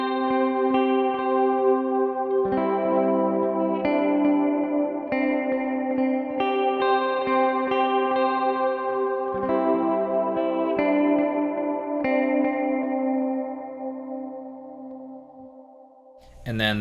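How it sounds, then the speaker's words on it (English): An electric guitar through an ambient pedal paired with a Flashback tape delay rings out in sustained chords that change every second or so and swell with a shimmering, echoing tail, then fade toward the end before a brief clunk. "I'm going to pair it with the tape delay on the Flashback here."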